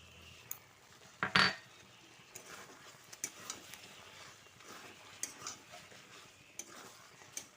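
A ladle stirs ground cumin and bay leaf powder into a vegetarian taro curry in a pan, soft quiet scraping and faint sizzle with one louder metallic clank and scattered light taps.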